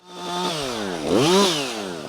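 A Husqvarna 560XP or 562XP chainsaw cuts up a felled tree, its engine holding a loud, close, steady whine, then dipping and revving back up as the chain bites.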